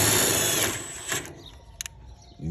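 A Milwaukee M12 impact drill whirs loudly and steadily for just over a second, then cuts out, leaving a few faint clicks and handling knocks close by.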